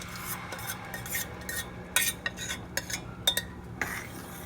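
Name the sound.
stirring mashed lentils into melted jaggery in a pan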